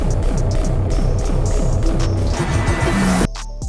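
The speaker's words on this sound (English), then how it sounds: "the lopey sound that the jackhammer is making while it's breaking down the E85" A Dodge Challenger Final Edition engine on E85 fuel throbs in a loud, uneven, lopey rhythm like a jackhammer, the pulses running steadily for about three seconds before cutting off abruptly.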